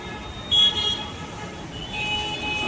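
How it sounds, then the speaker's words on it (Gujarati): Car horns toot outside a bus stand amid road traffic, with one short honk early on and a longer tone later over a steady street hum. "હોરન જો કેટલા મારે."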